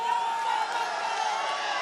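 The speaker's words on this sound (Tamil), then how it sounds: "ஆரவாரம் செய்கிறீர்கள்" An outdoor crowd at a TTV Dhinakaran election campaign rally, with EPS and Dhinakaran standing together on a van, cheering and whooping in a brief steady roar with no pauses.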